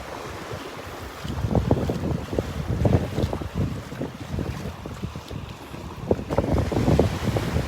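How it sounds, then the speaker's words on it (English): Strong gusts buffet the microphone on a Gulf beach at Delnor-Wiggins, a loud rumbling roar that swells and fades in repeated bursts, with surf faintly beneath. "Boy, listen to that wind."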